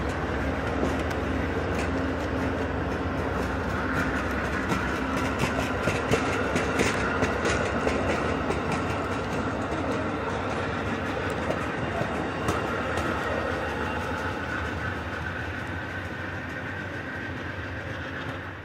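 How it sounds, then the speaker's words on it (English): An Amtrak passenger train rumbles steadily past at close range in snow, with a continuous roar and faint rhythmic clatter of wheels over the rails. "Bringing up the rear of the train was one of Amtrak's Sightseer lounge cars"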